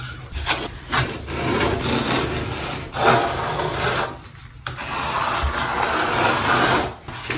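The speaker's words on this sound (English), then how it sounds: "I'm gonna do that by switching to a 1/4 inch by 3/16 inch V-notch trowel." Thinset mortar being spread over a Schluter shower pan with a 1/4 by 3/16 inch V-notch trowel: repeated gritty scraping strokes, loud and close, with short pauses between passes.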